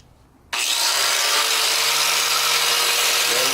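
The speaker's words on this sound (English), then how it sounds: "That is the very first time I've turned on an angle grinder, and it seems smooth." A handheld angle grinder switches on after a moment of near quiet, its motor spinning up into a loud, steady, high-pitched whine that stays smooth and even for several seconds.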